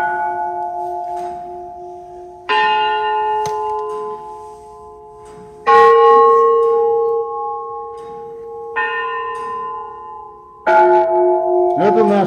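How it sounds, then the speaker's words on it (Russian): Russian church bells at the Peter and Paul Fortress strike in separate loud clangs, each ringing out and slowly decaying before the next, with several different bells sounding one after another. "Это наши колокола."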